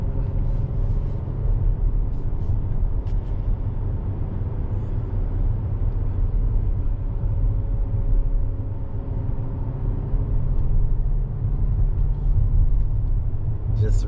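Interior cabin sound of a 2021 Volvo XC90 T6 AWD SUV on the road, a steady low rumble and road hum throughout with someone talking over it.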